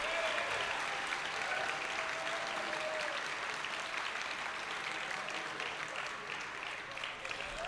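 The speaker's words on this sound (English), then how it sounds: "Big round of applause, Gold Sophie." A crowd applauds steadily at an awards ceremony, dense clapping sustained throughout with a few faint voices beneath.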